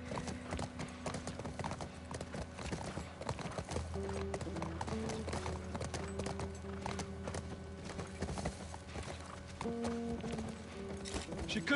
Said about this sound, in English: How am I supposed to ride the fucking horse?